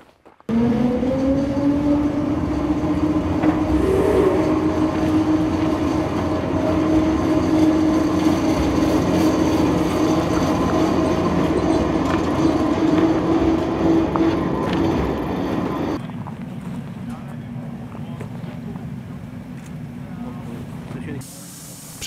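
Czech-built steam locomotive 555.0153 running in sharp frost on a Vršovice to Kněževes trip, with a loud continuous steam hiss and a rumbling, sustained drone that drops away sharply near the end, leaving a quieter low hum.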